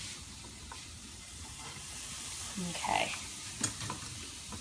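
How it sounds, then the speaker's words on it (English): Steady frying sizzle with occasional stirring clinks, close and continuous, a brief spoken word over it. "Ooh, listen to that sizzle."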